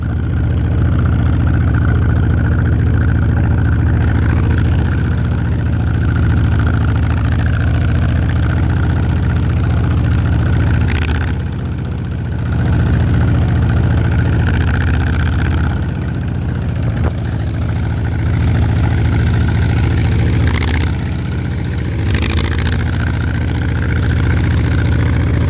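An old Allis tractor engine idles steadily with a deep, low rumble throughout, its governor holding speed, with brief dips and small surges as the load shifts, close and loud with no talk.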